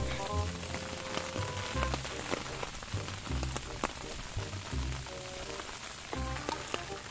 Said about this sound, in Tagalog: tapos ayan, bigla na siyang umulan